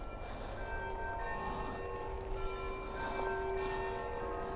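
Bells in a video game ring out in a continuous overlapping peal, bright tones sustaining over a dense, steady wash at moderate loudness, with no voices.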